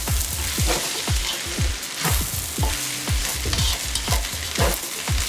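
Cumin and other spices are tossed in a hot pan, a loud, close sizzle that surges in quick rhythmic bursts as the pan is shaken over and over.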